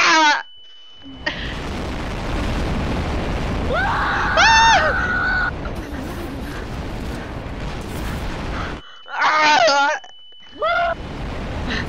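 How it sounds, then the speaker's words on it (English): A miniature bomb run in the video game Garry's Mod, a long loud rumbling roar of blasts and fire, with warbling electronic tones cutting in and brief quiet gaps. "That looks like a miniature bomb run"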